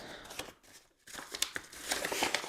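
An antistatic plastic bag from an AliExpress parcel holding hard drive parts is opened up close, giving soft crinkles and rustling crackles with a brief pause midway, quiet overall.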